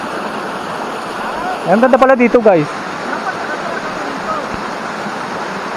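Water from a large river flows as a steady broadband rush throughout, with someone speaking briefly over it partway through, on a long ride stop along a hilly route.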